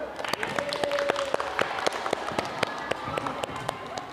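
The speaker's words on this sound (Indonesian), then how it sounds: "yuk beri tepuk tangan untuk kelompok 1" A class of students claps steadily during a rhythmic gymnastics lesson, sharp overlapping claps forming continuous applause over background chatter.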